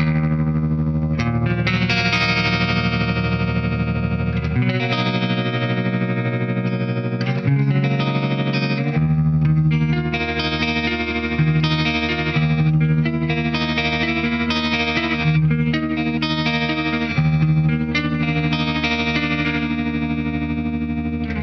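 Electric guitar runs through a SONICAKE Warped Dimension modulation pedal set to tremolo, playing continuous chords and riffs with a pulsing, wavering, effected tone and some reverb; loud, steady and close for about twenty seconds, with no speech.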